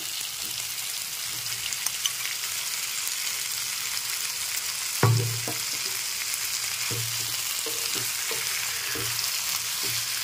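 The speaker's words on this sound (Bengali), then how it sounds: "পনিরগুলোকে নেড়ে চেড়ে একটু ফ্রাই করে নিতে হবে" Paneer pieces stir-fry on a tawa, a continuous close sizzle broken by a loud clack near the middle and a few lighter spatula knocks afterward.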